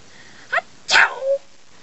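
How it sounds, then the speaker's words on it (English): A person performs a comic, exaggerated sneeze meant as a sneeze from China: a short sharp intake, then one loud, close, breathy burst trailing into a brief vocal tone, alone. "Here's a sneeze from China."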